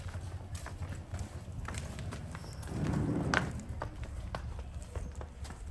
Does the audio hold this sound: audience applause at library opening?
no